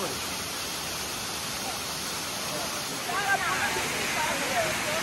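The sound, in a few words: waterfall at Hickory Nut Falls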